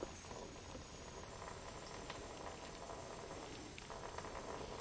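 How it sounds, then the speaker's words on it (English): Fuel draining from a motorcycle after a fuel line replacement, a faint continuous bubbling, trickling patter of liquid that stays steady throughout, with no talking. "So we'll wait for the fuel to drain."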